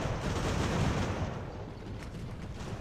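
Artillery fire from the age-of-sail battle game Ultimate Admiral: Age of Sail, a steady wash of distant booming cannon and crackling gunfire that rolls on without pause for nearly three seconds, with no voices.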